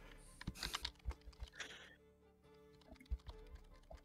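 Typing on a computer keyboard comes through as quick, irregular clicks and taps, soft and fairly close, during a tabletop Dungeons & Dragons session, with faint room noise between keystrokes.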